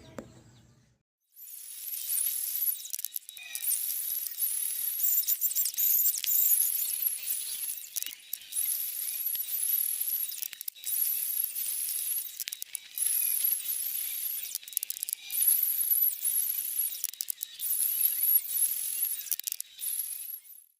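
A jack router cuts into a wooden cabinet door frame, a continuous high-pitched whining buzz that holds for long stretches with brief dips, close and fairly loud, no voices.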